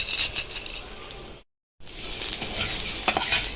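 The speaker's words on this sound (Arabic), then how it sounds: "افضل اشوح بقى لحد ايه الرز ما يصفر معايا يبقى لونه دهبي كده وحلو" Rice frying in a pot for a zucchini and meat dish gets stirred until golden, giving a close, continuous sizzle with scraping stirs, broken by one brief silent gap.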